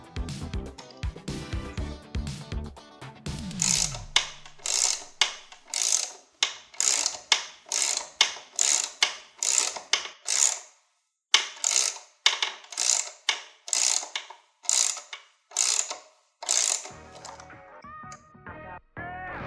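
A worn, rusty bottom steering stem bearing race is worked off a motorcycle with a tool. About two dozen evenly spaced mechanical ratcheting clicks and scrapes repeat steadily up close, with no voices.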